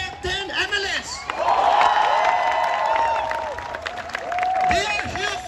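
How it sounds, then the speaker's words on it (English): A crowd at a Jantar Mantar rally in Delhi cheers and applauds for ten MLAs, loud and close, with whoops and shouting layered over dense clapping that swells and carries on throughout. "Once again, a big round of applause for our 10 MLS."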